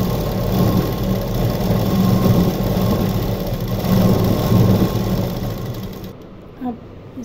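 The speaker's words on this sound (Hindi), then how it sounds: "इस पर हमको सिलाई चलानी है।" A sewing machine runs steadily while stitching kurti fabric, a continuous close whirring motor hum for about six seconds before stopping abruptly, leaving near silence with a faint click.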